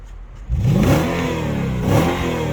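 A Mercedes S500 with a 388 hp engine and a worn gearbox revs up sharply from near quiet, climbing to a loud close roar, dropping slightly, then rising into a second rev.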